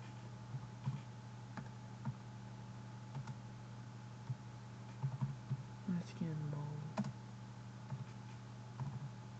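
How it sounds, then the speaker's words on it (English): Soft typing on a computer keyboard while chatting in Minecraft, scattered faint key clicks over a steady electrical hum, with a brief low voice or noise in the middle. "I'm gonna type nice skin mold."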